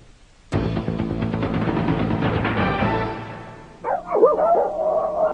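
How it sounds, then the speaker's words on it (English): Many dogs barking and yipping together at a rural animal hoarding home in Ulster, upstate New York, a dense continuous chorus of barks, then a higher whining and yelping in the final seconds. "More than 80 dogs and cats seized from this rural home in the upstate New York town of Ulster, owned by this man, Bruce Van Bramer."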